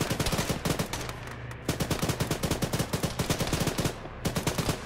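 Rapid automatic gunfire in an Arma military shooter rings out in long rhythmic bursts of evenly spaced shots, loud and near, broken by brief gaps, with no talk.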